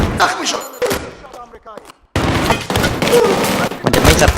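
Automatic gunfire in the video game Battlefield 3 during the Operation Guillotine mission: loud dense bursts of machine gun fire with a brief lull, then sustained rattling shots and booms.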